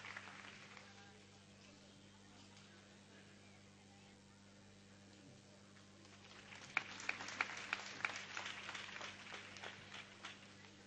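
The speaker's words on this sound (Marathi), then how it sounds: "प्रेक्षकांनी भरपूर टाळ्या वाजवाव्यात" Audience applause at an arangetram dance debut performance: a quiet hall hum for the first few seconds, then many hands clapping that builds and continues to the end.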